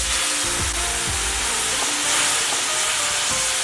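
Food sizzles steadily in a non-stick pan with a thin film of oil, a loud continuous hiss broken by a few soft stirring knocks, and no voices.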